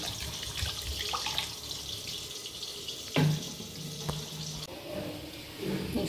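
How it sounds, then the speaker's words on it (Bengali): Water is poured from a tap into cooking masala for doi katla fish curry, a continuous splashing fill with a few sharper clinks, close and moderately loud. "এবার আমি প্রয়োজন মতন জল দিয়ে দেবো।"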